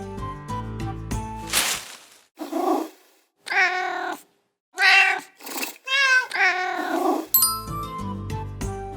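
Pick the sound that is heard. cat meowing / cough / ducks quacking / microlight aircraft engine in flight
cat meowing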